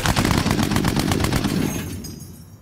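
Rapid machine-gun fire from the turret of a WW2 Lancaster bomber: a loud, close burst of evenly spaced shots that fades out toward the end.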